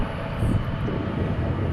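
An aircraft takes off at a large airport, a dense low roar that holds steady and fairly loud through the moment, with no voices present.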